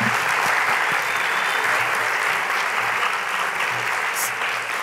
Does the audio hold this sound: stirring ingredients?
no